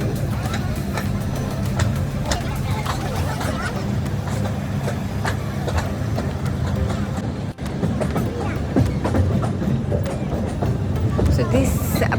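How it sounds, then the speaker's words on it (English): A steady, continuous rumble and rattle of a moving train, heard from inside a carriage on a scenic railway trip, droning evenly throughout with faint background murmur. "You can just enjoy the train journey."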